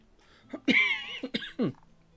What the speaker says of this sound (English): Apologies for coughing.